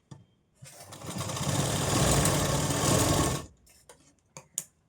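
A sewing machine runs a steady seam through katori blouse fabric for about three seconds, loud and close, then stops, leaving a few brief clicks and handling noises.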